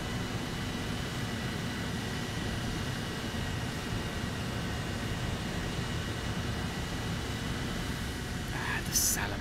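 Steady roar of a Heinkel He 162 Salamander jet engine in a video game, a constant broad rushing drone holding level throughout with no breaks.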